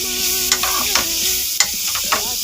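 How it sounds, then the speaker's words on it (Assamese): Paneer and carrots fry in a pan, giving a steady loud sizzle with several sharp scraping clacks as a utensil stirs the pieces. "দি লৈ এনেকৈ অকণমান টাইম ভাজি থাকিব লাগিব।"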